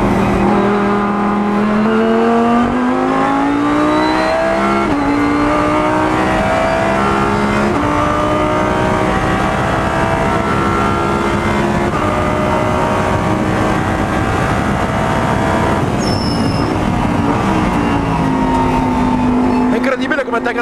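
Lamborghini Huracán GT3 race car lapping the Valencia racetrack, its engine loud and close throughout, climbing through gears with rising pitch and sharp drops at each upshift, with a voice talking over it.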